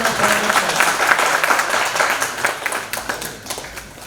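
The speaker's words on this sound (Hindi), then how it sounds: "आप जोरदार ताली बजाकर कि आप जाग रहे हैं, सोए नहीं है" Audience applause at the inauguration of a hall in Goverdhan, a dense, loud wash of many hands clapping from start to end, easing slightly toward the close.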